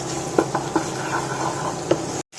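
Cubed potatoes roast in a pan for Navratri fasting-style dry potatoes, a soft continuous sizzle broken by a few sharp spoon scrapes and taps against the pan, ending in a brief cut to silence.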